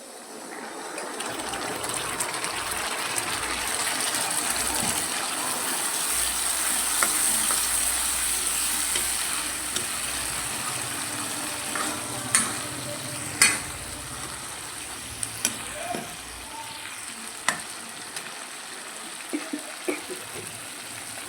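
Onions fry in a pan with a sustained, even sizzle. A spoon stirs them, adding occasional sharp scrapes and clinks over the steady hiss, with no speech.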